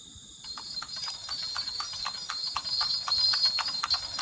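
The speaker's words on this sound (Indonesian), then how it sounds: "Benar-benar suara kelincingan kuda." Rhythmic hoofbeats with constant bright jingling bells, a carriage horse trotting steadily nearby with no talk over it.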